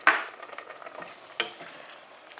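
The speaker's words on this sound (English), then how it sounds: "Final stir before I just leave it on the heat now to simmer" A spoon stirs courgette and raisin chutney in a pan, giving soft scraping and faint bubbling with a couple of sharper knocks against the pan, quiet and close, no voices.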